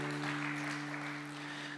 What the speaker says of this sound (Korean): 그렇게 하신 하나님께 감사의 박수를 보냈으면 좋겠습니다